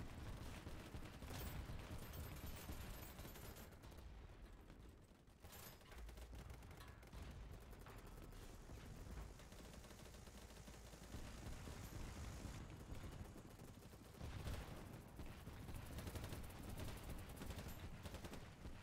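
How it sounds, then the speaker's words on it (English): Sustained gunfire in the video game Battle Bit Remastered, dense overlapping bursts and automatic fire filling the whole stretch at an even loudness, a continuous chaotic battle din with no pauses. "Wow, none of my shots went anywhere near that."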